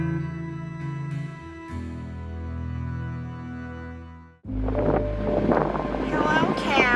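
A ferry crossing from Kingsville, Ontario, to Pelee Island, with a steady low engine drone and hum, then a sudden cut to louder wind buffeting and water rush near the microphone.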